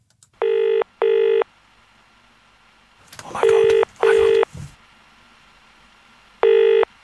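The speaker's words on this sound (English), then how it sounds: "Okay, Ian's ringing right now." A telephone ringback tone on a radio breakfast show pulses in paired bursts, repeating several times, with rustling and a few murmured sounds between rings.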